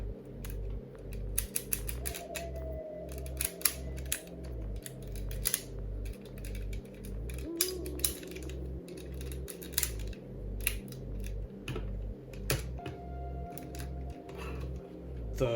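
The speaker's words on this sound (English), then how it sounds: "The arms are on a very nice ratchet joint that can go in and out" Ratchet joints on the arms of a DX Tarantula Knight toy clicking in and out, rapid close plastic ticks in repeated bursts over a low mechanical hum.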